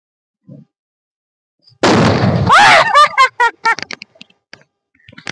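A firecracker bomb bursts during village Diwali celebrations with one sharp, loud, close bang, followed by excited voices calling out and a few small pops.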